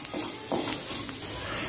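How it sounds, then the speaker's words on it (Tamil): Onions with salt being stirred and mashed in a pan, a continuous soft sizzle with scraping strokes of a spatula, close and steady throughout. "உப்பை சேர்த்து நல்லா இந்த மாதிரி மேஷ் பண்ணி வதக்கிக்கலாம்."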